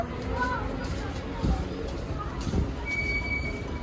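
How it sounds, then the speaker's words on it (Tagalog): A metro train passing in Yerevan, Armenia, a low rumbling roll with a faint wheel squeal toward the end, heard beneath people talking nearby. "Ah, yan yung metro."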